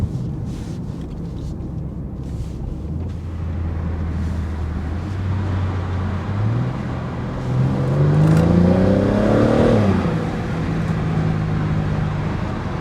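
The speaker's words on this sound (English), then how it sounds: "That sounded decent in that tunnel" A car exhaust fitted with 115mm titanium tips echoes through a tunnel: a low steady drone builds into a loud revving surge whose pitch climbs, then settles back to a hum.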